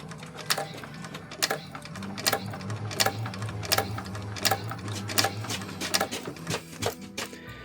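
A sewing machine stitches a zipper onto an EVA bag, running in a steady rhythmic series of about a dozen quick needle bursts, close and clear with no talking.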